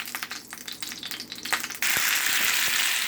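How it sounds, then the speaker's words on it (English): Faint clicks and scraping, then noodles drop into hot oil and a loud, steady sizzle bursts up and continues. "just going to go ahead and pop the noodles in there and fry them up"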